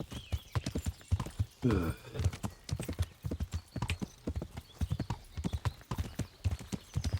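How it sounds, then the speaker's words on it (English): Horse hooves clip-clop steadily on the ground in the medieval game Kingdom Come: Deliverance, a brisk, continuous rhythm of close, loud footfalls with a brief whinny and a person groaning once. "I hate how annoying driving horses in this game is."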